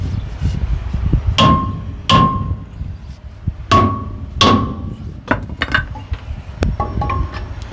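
Sharp metallic hammer blows bend metal parts on a 48-foot flatbed truck, struck one at a time with ringing clangs at uneven intervals, then lighter taps toward the end.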